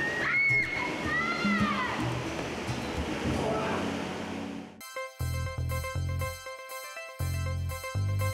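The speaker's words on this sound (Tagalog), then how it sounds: "malakas ang agos ng tubig sa loob ng kuweba" Strong water current rushes and sloshes inside a river cave along the Cagayan River, a loud, steady wash with splashes, ending abruptly as music takes over partway through.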